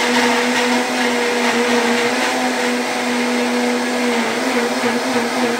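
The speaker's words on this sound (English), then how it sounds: "we're done with molasses, and then we're going to blend it" A blender runs steadily and loudly throughout, whirring through raw vegan butternut squash soup sweetened with molasses, a continuous motor drone with no talk over it.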